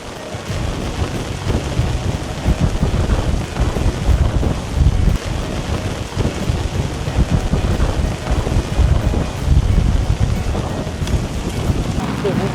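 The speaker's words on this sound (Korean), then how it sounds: "아 갑자기 비가 퍼 부어 불고 난리가 났네" Heavy rain pours down at an outdoor fishing spot while strong wind buffets the microphone, making a loud, continuous roar with gusty surges throughout.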